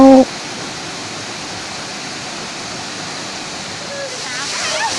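Mae Koeng Luang waterfall in Thailand roars as a steady, loud rush of falling water, with a faint voice rising briefly near the end.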